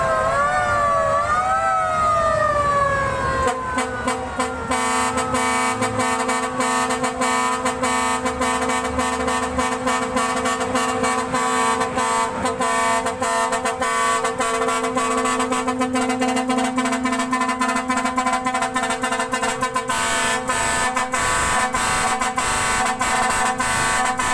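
A Nissan car horn sounds continuously at close range, its steady blaring tone pulsing in a rapid rhythmic pattern throughout, with no voices.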